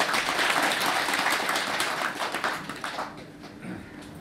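A seated audience claps at an inauguration ceremony for a new association president in Daegu; soft, distant applause that thins out and fades toward the end.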